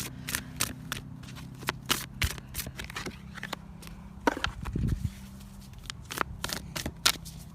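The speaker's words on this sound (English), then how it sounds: "Let me know if you guys enjoy the shuffling live on camera thing." Deck of pick-a-card reading cards being shuffled close up, sharp riffling snaps and soft slides in irregular bursts, with a brief fuller rustle midway, no talking.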